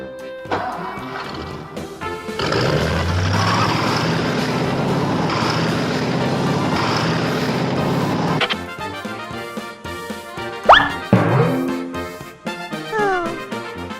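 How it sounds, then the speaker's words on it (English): A concrete truck's engine roars loudly for several seconds amid toy-like musical tones, followed by a sharp crash and squeaky tonal sounds, with a voice speaking briefly. "Concrete trucks."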